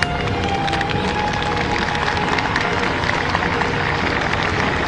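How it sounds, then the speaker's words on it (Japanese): Loud, sustained applause from Imperial Household Agency staff seeing off the Japanese emperor's enthronement parade of motorcycles and cars, a dense unbroken wash of clapping with crowd noise throughout. "お見送りの宮内庁職員などの間から大きな拍手が沸き起こっています。"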